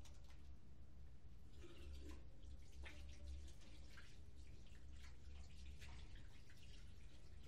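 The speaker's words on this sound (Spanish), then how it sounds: "El agua del grifo, preferentemente fría." Cold tap water runs steadily from a faucet while someone washes a hand with a stitched index finger, a soft continuous splash with faint drips close by, no voices.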